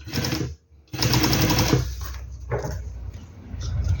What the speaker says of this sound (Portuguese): E sigo com a minha costura.